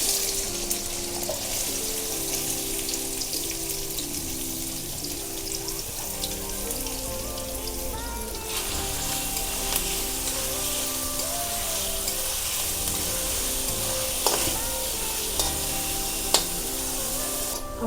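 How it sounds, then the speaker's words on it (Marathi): Chopped onion frying in hot oil in a pan for pav bhaji, a steady, close, continuous sizzle and crackle with occasional sharper pops and scraping. "तेल तापलं आहे. आता कांदा टाकून घेऊया."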